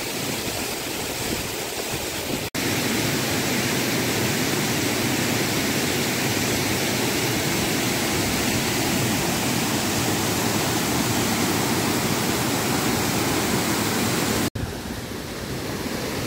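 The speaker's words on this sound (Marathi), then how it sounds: "तर 100 फुटावरना मित्रांनो ह्यो धबधबो ना ओसंडताना तुमका दिसता" The Vyaghreshwar waterfall pours over a 100-foot drop in heavy monsoon rain, making a dense, steady, loud roar of falling water that holds without a break.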